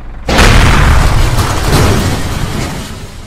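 A loud explosion erupts in a video game, a sudden heavy boom followed by a long rumbling, crackling tail that slowly fades over a few seconds.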